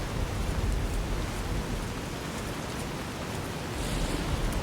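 Heavy rainstorm in the video game Fallout, Tale of Two Wastelands, a loud, dense, unbroken roar of pouring rain that holds steady throughout with no speech over it.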